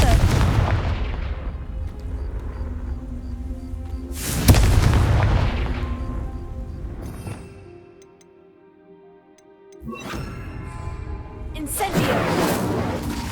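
Spell explosions booming in the video game Hogwarts Legacy, including the Confringo blasting curse: several heavy, close blasts with long rumbling decays, a quieter lull in between and a final burst.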